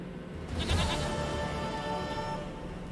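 A goat in The Witcher 3 video game bleats once with a wavering, drawn-out cry over low background game ambience, and no one speaks.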